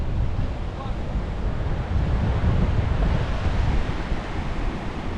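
Ocean waves wash onto a clean beach strewn with shells near a river mouth. The surf roars steadily and fills the whole stretch, with wind buffeting the microphone.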